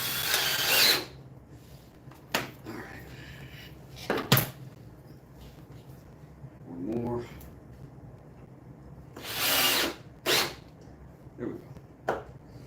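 Power drill driving a screw into wood during a woodworking job, heard as a few short bursts of whirring and ratcheting at moderate volume, separated by pauses and workshop clatter.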